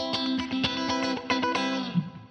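Distorted, gritty music plays through the HZ Box algorithmic soundbox emulator plugin, the notes buzzing and crunching with a harsh overdriven edge.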